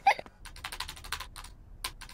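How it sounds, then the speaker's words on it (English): Rapid clicking of a computer keyboard in a Peppa Pig cartoon, in short irregular bursts of keystrokes, fairly close and moderately quiet. "Peppa and George love to watch Mummy work on the computer."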